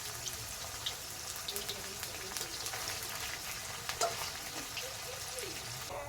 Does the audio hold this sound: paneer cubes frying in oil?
yes